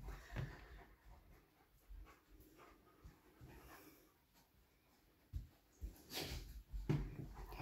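Big dogs pant faintly and unevenly while exploring a new house, with soft snuffling, breathy puffs and a few louder bursts near the end.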